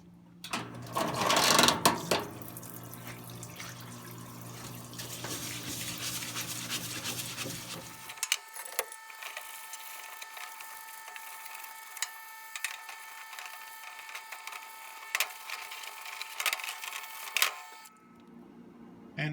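A parts washer degreasing a drill press motor bracket from an Atlas 73 drill press, giving a steady mechanical whir with pump and brush noise. A loud burst comes early, then the low hum drops out and lighter rattling and clicks continue until the end.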